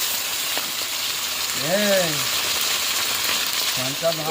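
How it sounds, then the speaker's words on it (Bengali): Food fries outdoors in a pan with a steady, bright sizzling hiss, while brief voices and short vocal sounds rise over it near the middle and end. "দেখো আমি এখানে রান্না করছি"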